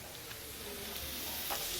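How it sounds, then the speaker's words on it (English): Vegetables stir-fry in sesame seed oil in a soup-making kitchen, giving a steady, close sizzle with faint stirring scrapes throughout. "vegetables that are stir frying in the sesame seed oil"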